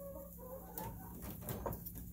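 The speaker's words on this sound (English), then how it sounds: "I got a rooster that got loose somehow." A loose farm rooster perched up high gives soft clucking calls, a few short notes over steady outdoor background noise, fairly close.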